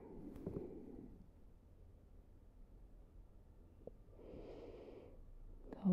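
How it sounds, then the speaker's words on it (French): Slow, soft exhales of yoga breathing come at a quiet, close range, with one long breath out followed after a pause by another. "Encore on expire."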